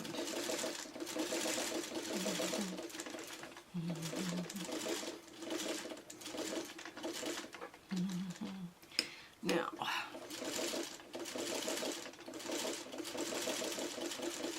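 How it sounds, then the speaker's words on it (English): Close, steady whirring and rhythmic needle ticking of a sewing machine stitching pieces of a Dresden fan quilt block, with brief pauses and someone talking over it. "the needle down feature is handy on a sewing machine"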